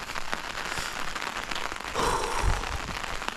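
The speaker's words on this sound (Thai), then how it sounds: "ทุกคนดูดิฝนตก ทุกคนคิดดูนะ ทั้งหนาวแล้วก็ฝนตก" Steady rain falling outdoors on a cold morning, a dense continuous hiss of drops pattering on surfaces, close and fairly even throughout with a few louder splashes.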